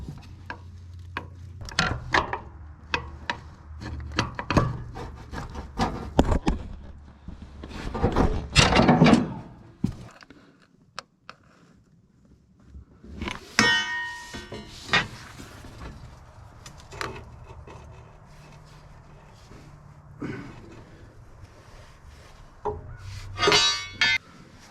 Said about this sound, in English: Trying to break that bolt out of there.